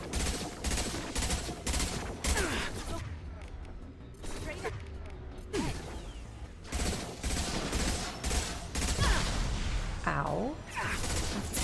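Rapid gunfire in Mass Effect 2 as enemies riddle crates with shots, a dense clatter of bursts and impacts running throughout, with a voice talking over parts of it.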